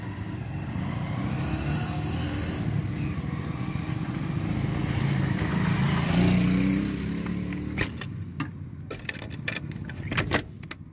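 A single motorcycle on a ride in hot weather drones steadily with engine noise, swelling slightly midway, then gives way to sharp rattling clicks and jangling near the end.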